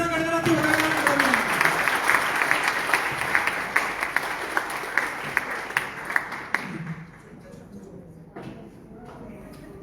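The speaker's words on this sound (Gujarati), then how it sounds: "તાળીઓના ગણગણાટથી વધાવવાનું" At a COVID warrior award ceremony, an audience applauds loudly and steadily to welcome an award recipient, dense clapping that gradually thins and fades out after several seconds.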